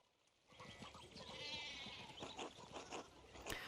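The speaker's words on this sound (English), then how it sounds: "Oh my god, there's so many sheep." Sheep bleating in the video game Pentiment, a steady mid-distance flock chorus with overlapping bleats and soft ambient noise, no talking.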